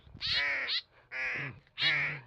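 A crow caws three times, loud and close, each call harsh and drawn out with brief pauses between.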